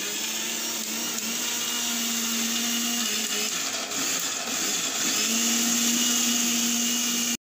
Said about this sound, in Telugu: దీన్ని జస్ట్ మిక్సీ పడితే అయిపోతుంది అంటే.